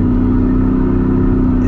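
A 2023 Shelby F-150 Super Snake Sport pickup's engine gives a loud, close, continuous deep rumble and drone that holds fairly steady throughout.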